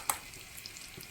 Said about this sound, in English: then I go straight into the frying pan